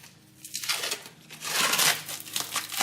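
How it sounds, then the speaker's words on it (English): Stickers are peeled off new Nitto Ridge Grappler 35x12.50R20 E-rated tires, giving close, crinkly tearing and crumpling sounds in bursts, loudest near the end. "Get these stickers off."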